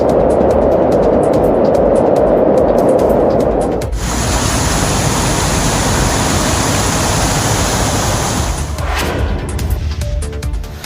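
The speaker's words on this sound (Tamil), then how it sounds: "தொடர் மழையால் குற்றால அருவிகளில் கடும் வெள்ளப்பெருக்கு ஏற்பட்டதால்" Courtallam waterfalls in heavy flood after continuous rain roar as a dense, steady broadband rush, loud and unbroken for several seconds, with the tone shifting partway through as the vantage changes.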